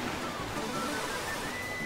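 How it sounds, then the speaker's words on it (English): Rushing waterfall in the video game Super Mario 3D World, a steady broadband wash of water noise that holds evenly throughout at moderate level. "Oh my god, I forgot about this waterfall."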